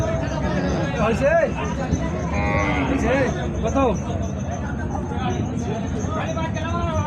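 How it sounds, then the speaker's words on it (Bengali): Cattle at Ambari haat, a rural Bangladeshi livestock market, low several times over a busy backdrop of crowd chatter, with moos overlapping the nearby talk. "অনেক সুন্দর গরু।"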